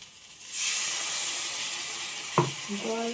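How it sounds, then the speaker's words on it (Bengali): Pointed gourd (potol) frying in a little oil gives a steady, close sizzle and hiss throughout, with a brief scrape of stirring near the end. "এই যে পটল থেকে আস্তে আস্তে তেল ছাড়ছে, অল্প তেলে তো।"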